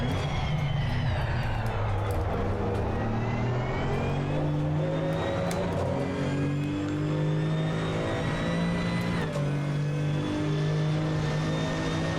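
Porsche GT2 race car in Assetto Corsa Competizione, its engine droning steadily and loudly throughout with rising and falling pitch as it accelerates and shifts, heard from the cockpit with no talking.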